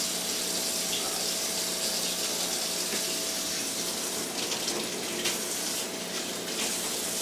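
A kitchen tap runs continuously while the water is left to heat up, a loud steady gushing stream into a sink with no pauses or speech.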